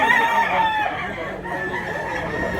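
Dense clucking and occasional crowing from many chickens fill a poultry market in Mantalungon, Cebu, steady and close with a murmur of crowd noise underneath.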